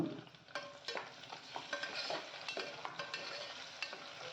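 Okra curry cooking in a pan as a tomato goes in, with a steady close sizzle and a string of sharp stirring knocks and scrapes of the spoon against the pan, no voices.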